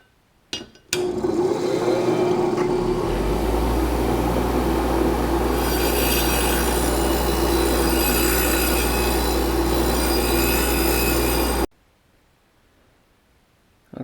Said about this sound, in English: Now that I've taken the brass wheel to it